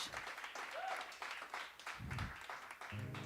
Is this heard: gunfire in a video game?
no